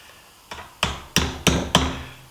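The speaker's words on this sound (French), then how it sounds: "un petit coup de marteau" Five crisp metallic hammer taps on a clamp around a rubber CV joint boot, evenly spaced and loud up close, each ringing briefly before the next blow.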